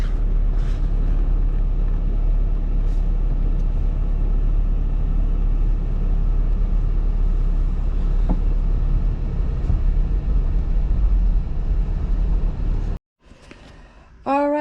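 A car drives along the road with a steady, loud low rumble of engine and tyre noise and some wind buffeting. Near the end it cuts out briefly, then faint sounds return.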